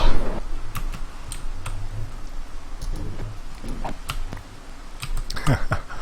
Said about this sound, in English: my keyboard makes that noise